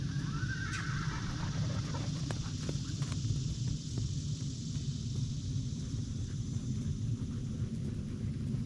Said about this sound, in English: if you hear the horse whinnying in the background